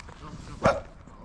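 A dog gives a single short bark outdoors at night while being walked, moderately distant and brief against a quiet background murmur.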